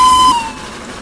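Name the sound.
locomotive steam whistle in the video game Trainworks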